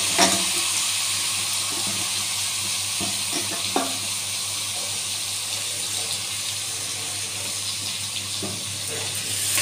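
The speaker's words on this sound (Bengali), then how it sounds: "এবার ঢাকাটা খুলে দিলাম, একটু নাড়িয়ে মোচাটা দিয়ে দেবো" Cooked banana flower is stirred in an uncovered pan, with soft scraping and a few knocks from the utensil over a constant hiss of sizzling. The stirring stays close and moderately loud throughout.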